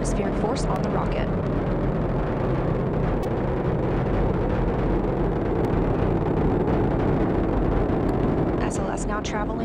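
NASA's SLS rocket engines thundering during the Artemis I launch, a continuous dense roar with crackle, heard from a distance under a narrator's steady commentary.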